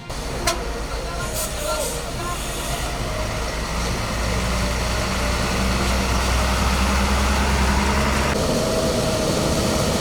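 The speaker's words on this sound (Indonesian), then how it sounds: "Satu persatu mobil truk logging kembali dapat melanjutkan perjalanannya." Logging trucks rumbling at idle on a roadside at night after toppled high-voltage power lines were cleared, a steady low engine drone that builds slightly as vehicles pull away, with a voice speaking over it.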